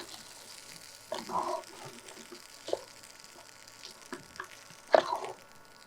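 Food fried in a pan over low heat while making pongal, a faint sizzle broken by a few distinct stirring scrapes, quiet and close.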